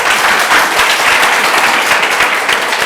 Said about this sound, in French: je vais demander à mes amis d'applaudir encore très très fort.